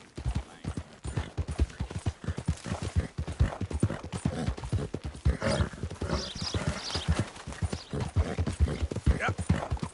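A horse clip-clops at a steady walking rhythm in a PS4 video game, with close, clear hoofbeats running throughout and voices coming through at times.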